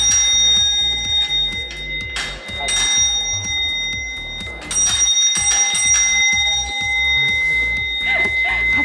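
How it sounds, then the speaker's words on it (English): A loud, sustained ringing bell on an old transit vehicle at a transit museum clangs repeatedly with brief pauses, close by, amid background noise and voices. "Would you mind carrying him so he can ring the bell?"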